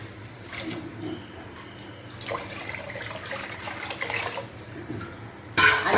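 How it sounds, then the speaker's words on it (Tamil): Water runs and splashes into a metal pot as five tumblers are added for kodo millet pongal, with clinks of utensils and a louder rush of pouring at the end. "ஒரு டம்ளர் போட்டிருக்கேன் இதில் அஞ்சு டம்ளர் தண்ணி ஊற்ற போகிறேன்"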